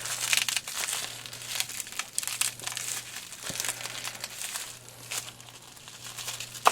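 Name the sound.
bubble wrap packaging being handled, crinkling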